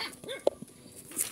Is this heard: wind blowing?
no